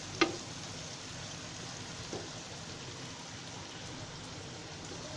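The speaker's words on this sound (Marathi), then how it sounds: "आता हे कांदा वगैरे सर्व फ्राय करते." Onion, ginger and garlic fry steadily in a pan on a fast gas flame, a constant close sizzle with a brief clink near the start and another around two seconds in.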